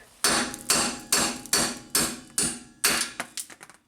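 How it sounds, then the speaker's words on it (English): Seven sharp, evenly spaced hammer blows on metal, driving snapped wheel studs out of a Subaru hub, each strike loud and close with a short ringing decay. "We'll just try to hammer these guys out of here."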